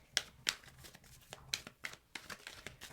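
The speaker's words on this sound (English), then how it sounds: "let me just get a couple good shuffles in here" A tarot card deck shuffled by hand in a quiet room, with a series of close, crisp riffling bursts and light card slaps in an uneven rhythm, no talk.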